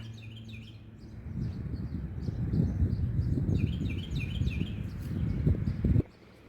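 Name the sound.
birds singing outdoors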